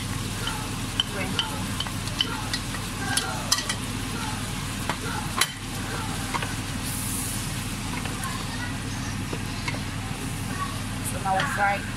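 Garlic, pepper and greens sizzle quietly in a pan while being stirred, with scattered clicks and scrapes of the utensil and a low background hum.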